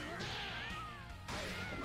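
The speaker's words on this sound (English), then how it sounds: "When she's going like, meow, meow." A Skullgirls fighting-game character gives a high, gliding meow voice line, two catlike calls over busy game sound effects with a sharp hit between them.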